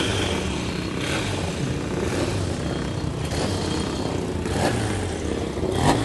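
Motorbike engines roar continuously nearby as several ride past at Brooklands Test Hill during a motorcycle day, a dense, loud mechanical drone with occasional swells as one passes closer.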